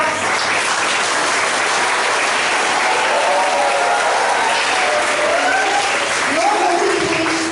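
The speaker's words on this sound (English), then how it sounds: "Students, give them a warm welcome. Let them hear the claps." Students in a workshop hall applaud in a loud, sustained burst of dense clapping lasting several seconds, with voices calling out faintly beneath it.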